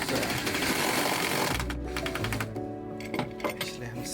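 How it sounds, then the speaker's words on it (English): A power drill drives long screws into wood during tiny-home building, its whine starting loud and dense, then giving way to a lower motor drone with clinks and short bursts as the screw seats. "let's just start with screwing this in here, right?"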